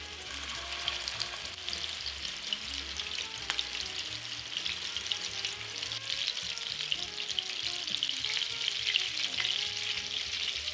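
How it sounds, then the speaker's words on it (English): Meatballs searing in a hot pan give a loud, continuous close sizzle with small crackling pops throughout. "These meatballs have nicely firmed up, so they'll be easier to sear on the pan."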